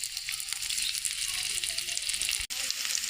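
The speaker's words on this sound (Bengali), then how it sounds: "তেলটা গরম হয়ে গেছে, আমরা পেঁয়াজ কুচিটা দিব এখানে।" Chopped onions hit hot oil in a pan for a vegetable pilaf, giving a loud, dense sizzle that holds steady, broken once by a brief dropout.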